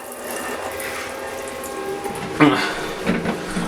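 Tap water runs over a painted figurine being rinsed clean, a close, steady splashing stream with a louder splash partway through.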